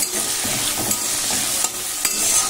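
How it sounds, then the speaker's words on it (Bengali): Potatoes frying in a pan, a loud, steady close-up sizzle with occasional stirring scrapes and no talk. "এখানে আলু ভাজা হয়ে গেছে"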